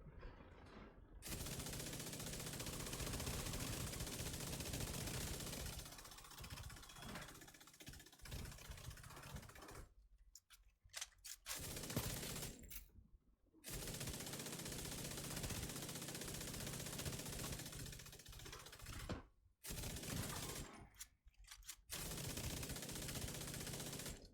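Sustained automatic turret fire in The Division 2, a dense, continuous rattle of shots running for long stretches with brief pauses between bursts, loud and close alongside other game combat noise.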